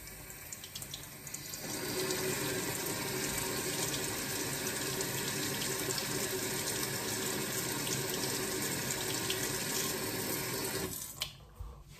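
Tap water runs steadily onto the back of a spoon, making a close, continuous hiss and splatter that cuts off near the end.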